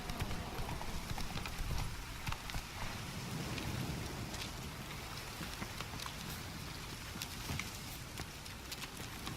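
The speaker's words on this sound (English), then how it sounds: "Run, Roach" Roach, Geralt's horse in The Witcher 3 video game, gallops with steady clip-clopping hooves throughout, close and continuous over a rain-like hiss of ambient noise.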